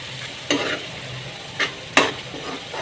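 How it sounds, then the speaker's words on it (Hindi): Whole spices such as cardamom, cinnamon, cloves and peppercorns frying in oil for a street-style daal mash, a soft steady sizzle broken by three sharp stirring scrapes, close up with no voices. "और इनको भी इसके साथ ही हम फ्राई करेंगे।"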